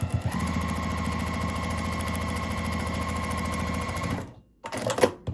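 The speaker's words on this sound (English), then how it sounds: "So I'm at my sewing machine." A sewing machine stitching binding onto a tote bag pocket runs in a steady, fast mechanical whir for about four seconds, then stops, followed by a short burst of handling clatter.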